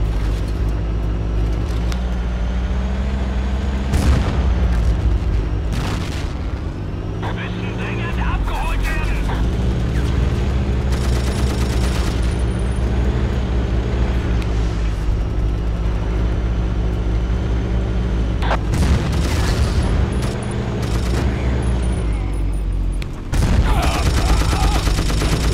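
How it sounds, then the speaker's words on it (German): Dense battle noise from Battlefield 1942, with continuous rumbling engines and bursts of gunfire and grenade blasts, loud and unbroken throughout. "Hier können einem die Granaten noch gut schaden, wie man gerade sieht"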